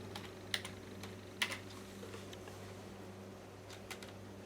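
Someone types on a computer keyboard while writing VBA code, with sparse, quiet keystrokes and a few sharper taps over a low fan hum.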